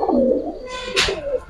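A single soft, close coo from a female pigeon, short and clear with no talking.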